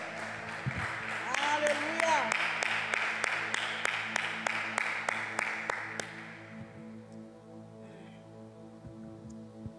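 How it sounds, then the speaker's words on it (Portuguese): Church congregation applauding the Lord during a Wednesday evening worship service, a dense wash of clapping mixed with voices calling out, then fading away after about six seconds, leaving quieter talk with musical tones underneath. "Isso, aplauda ao Senhor,"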